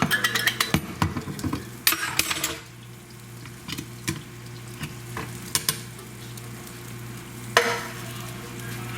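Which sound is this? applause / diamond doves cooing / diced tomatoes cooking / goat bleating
diced tomatoes cooking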